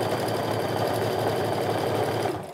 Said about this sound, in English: Stitch in place, reinforce those stitches.